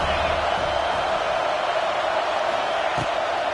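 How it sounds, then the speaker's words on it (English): A stadium crowd at a college football video game matchup between Kentucky and Alabama roars steadily on third down, a dense, continuous wash of cheering that stays fairly loud and unbroken throughout. "The Tide crowd roaring noise down on the Saban field on third down"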